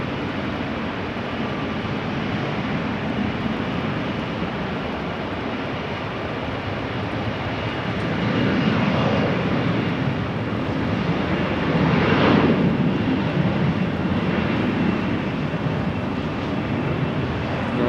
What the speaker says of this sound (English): That's an E2 Embraer that you saw in the foreground, which will be going to Geneva.